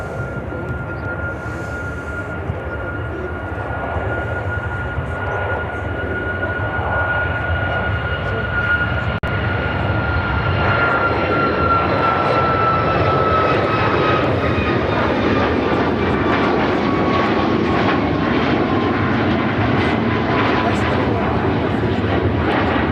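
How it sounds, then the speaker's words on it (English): United Airlines Boeing 737 MAX 9 jet roaring on takeoff, a loud steady engine rumble with a high whine that slides gradually downward, building and holding strong throughout. "This is United Airlines 2033 taking off to Cleveland on the MAX 9."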